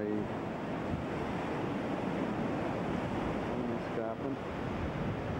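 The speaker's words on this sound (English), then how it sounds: "The sea is very wild, all the way down the coast." Wild sea surf pounds the coast below a clifftop lookout near London Bridge, a continuous loud roar of breaking waves mixed with strong wind buffeting, with a faint tonal whistle briefly near the end.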